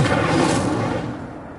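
Incendio fire spell cast in the Hogwarts Legacy video game, a loud broadband whooshing burst that roars at the start and fades out over a second and a half, heard alone.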